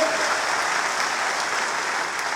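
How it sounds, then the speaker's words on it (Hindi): Loud, dense crowd applause at a political campaign launch event in Tripura, a continuous wash of many hands clapping together without pause. "तो जरा जोरदार ताली तो होनी चाहिए।"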